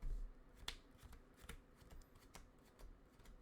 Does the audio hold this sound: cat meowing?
no